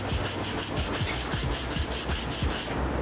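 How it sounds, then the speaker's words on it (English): A hard plexiglass block with 150 grit paper sands body filler on a 1948 DeSoto in quick rhythmic back-and-forth strokes, about a dozen close scratchy passes with no talking. "So I switched over to a hard plexiglass block. Same grit. This is 150 grit."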